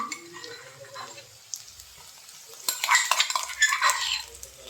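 Onions and green chilies frying in a pan as ginger-garlic paste is stirred in, with scraping, clinking spoon-on-pan sounds and a soft sizzle that grow busier and louder toward the end, with no talking.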